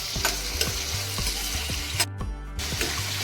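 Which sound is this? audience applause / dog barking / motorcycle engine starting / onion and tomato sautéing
onion and tomato sautéing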